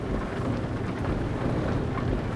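Steady rain shower drumming on a truck cab while driving in Euro Truck Simulator 2 near the Denmark ferry route, a continuous broadband hiss with low rumble throughout, no voices.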